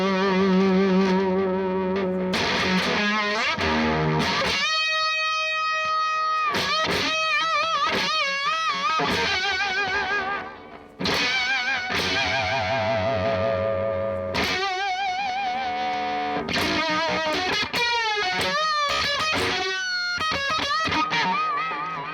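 Electric guitar through a Voodoo Labs Proctavia octave fuzz pedal, loud and continuous with buzzy, harmonically rich fuzzed notes, wavering bends and choppy stabs, no one speaking.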